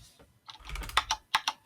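Computer keyboard keys clack in a short irregular burst, several sharp close taps with brief pauses between them.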